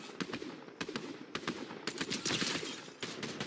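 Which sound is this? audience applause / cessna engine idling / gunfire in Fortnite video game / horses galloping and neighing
gunfire in Fortnite video game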